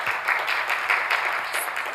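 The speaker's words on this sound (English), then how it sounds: "Thank you also for this applause" An audience applauding at a physics talk, a continuous dense patter of many hands clapping at moderate volume with no voices over it.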